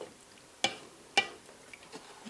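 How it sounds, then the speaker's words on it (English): Thick balsamic onion jam simmers in an open pot, giving two sharp, close pops about half a second apart over a faint steady bubbling hiss, followed by a few softer plops, with no one talking. "So now we are going to cook this down, get it up to a simmer, and for 45 minutes until it's nice and thick."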